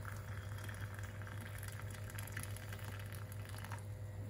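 Freshly boiled water is poured into a cup for a tea, making a soft, continuous liquid rush over a low steady hum, faint and without any talking.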